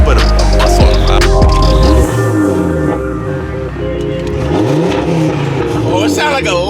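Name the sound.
sports car engine revving, sounding like a Lamborghini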